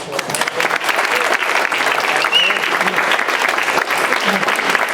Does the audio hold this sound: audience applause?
yes